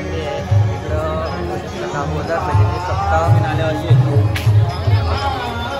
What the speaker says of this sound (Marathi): आणि आजपासून सुरुवात होत आहे आणि गर्दी बघा किती आहे ती.